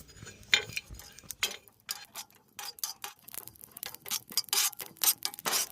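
Cumin and fennel seeds being dry-roasted and stirred in a pan, giving a run of light, sharp metallic scrapes and ticks that come in irregular bursts, close and fairly quiet, with no talking.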